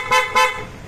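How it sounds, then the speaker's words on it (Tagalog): Horn of a Kymco Dollar 150i scooter, two quick, close, bright toots in rapid succession. "Tapos may busina na rin yan."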